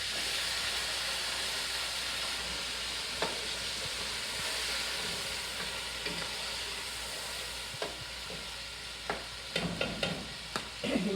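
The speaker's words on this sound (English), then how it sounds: "Add my shrimp to fry a little bit." Shrimp frying in a deep pot for seafood jollof rice, a steady close sizzle and hiss throughout, with a few sharp clicks and scrapes of stirring toward the end.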